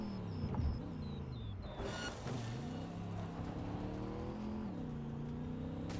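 Cars racing in the Cyberpunk 2077 video game, a steady engine drone with rising and falling revs as gears shift, plus a whooshing pass and a metallic clatter early on, fairly loud and continuous.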